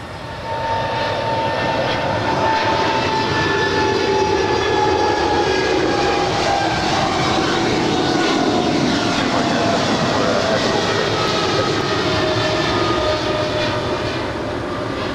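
The FedEx 3901 Heavy jet roars loudly and steadily on departure, its engine whine holding strong for the whole stretch before easing slightly at the end.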